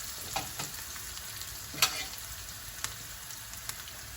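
Ginger garlic paste sizzling in hot oil, a steady close hiss and crackle with a few faint clicks of a utensil, heard alone.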